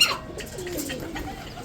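Pigeons coo at feeding time, a soft low rolling call drawn out over a couple of seconds against faint background hiss, close by and alone without talk.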